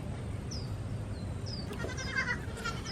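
A goat on a farm bleats in short, fairly faint calls, several separate cries spaced across a couple of seconds against quiet background noise.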